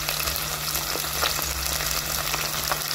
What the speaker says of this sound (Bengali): আমি উপর থেকে এই 300 গ্রাম চিকেন ঢেলে নিলাম।